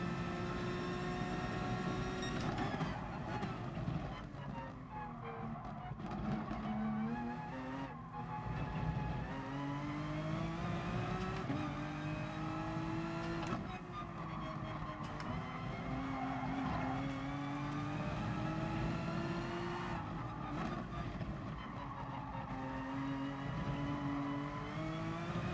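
A race car in Gran Turismo Sport roars continuously, its engine pitch climbing and dropping repeatedly through gear changes, with tyre squeal mixed in; loud and steady throughout.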